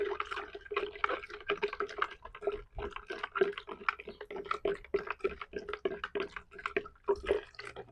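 Tilapia feed is stirred into water in a container, producing a quick, continuous run of small sloshing and dripping splashes, close and fairly soft.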